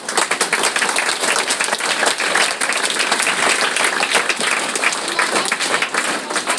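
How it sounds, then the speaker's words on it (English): Big round of applause from a school audience at a Don Bosco cultural program, dense steady clapping filling the whole stretch, loud and close with no pause. "let us appreciate him by giving him a big round of applause"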